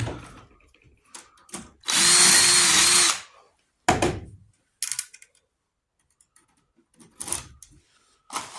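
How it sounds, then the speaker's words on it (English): A pop rivet tool fastens a panel in place on a custom Mini X build, giving a loud burst of about a second followed by several short sharp snaps and clicks separated by silence. "let's start by pop riveting this panel in place"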